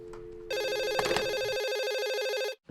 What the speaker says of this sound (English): I'll take this call privately, Stacy.